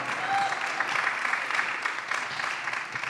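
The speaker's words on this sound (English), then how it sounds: "can you please give a big round of applause for all these empowering women over here" Steady audience applause for women on stage at a business summit in the UAE, a dense, even wash of many hands clapping that continues throughout at moderate loudness.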